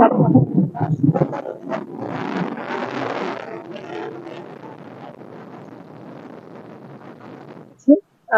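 Wind blowing over floodwater and strong current in Jhalakathi, Barishal, rushes as a broad steady roar that swells and gradually fades. Someone talks briefly over the start.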